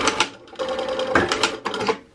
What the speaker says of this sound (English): So what you want to do is backstitch the front and backstitch this end as well.